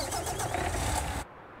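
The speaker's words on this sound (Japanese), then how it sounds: "エンジンスタート、" A tractor engine starts up in the farming game Farming Simulator 19: a loud, broadband cranking roar for just over a second that cuts off abruptly into quiet.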